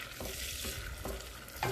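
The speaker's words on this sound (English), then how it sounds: "I'm like frying the butter." Butter melts and fries in a hot pot on the stove while making chicken pot pie, a steady close sizzle with a brief stirring scrape and a clink near the end.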